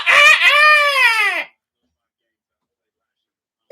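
A rooster crows once, loud and close, a drawn-out cock-a-doodle-doo followed by silence.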